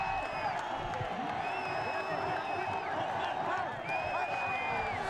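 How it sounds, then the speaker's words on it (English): Motorsport fans at the Valencia MotoGP race in 2013 roar and whoop in a dense, continuous crowd wash, with a commentator talking over it. "The fans going wild up there."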